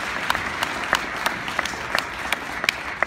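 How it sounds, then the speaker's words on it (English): Crowd at a county diversity dinner applauding, a light spread of clapping with a few sharper, nearer claps standing out at a steady pace. "So let's clap for that too."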